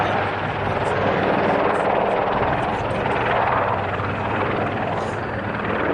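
Military Wildcat helicopters fly at the Yeovilton air display, a loud continuous rotor and turbine roar that holds steady throughout, with a faint announcer's voice beneath it.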